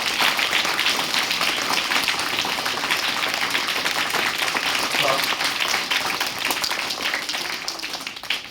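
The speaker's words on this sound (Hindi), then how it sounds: "आप लोग एक बार रेखा गुप्ता के लिए जोरदार ताली लगाया" A crowd claps loudly for a woman being honoured at a Saturday prayer gathering. The dense, sustained applause runs without a break for over eight seconds and eases slightly toward the end.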